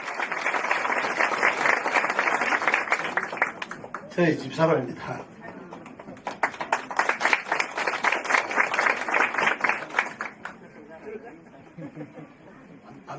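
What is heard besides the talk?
audience applause at a senior care center opening ceremony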